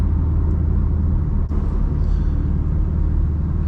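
A loud Chevrolet Camaro SS rumbles steadily while driving at night, its deep, constant engine drone filling the cabin with one brief dip.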